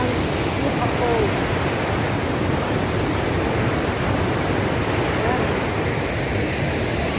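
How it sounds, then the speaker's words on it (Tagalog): Huka Falls waterfall roars in a loud, constant, broadband rush that fills the whole scene, with someone speaking briefly over it. "Ayan, ang Huka Falls."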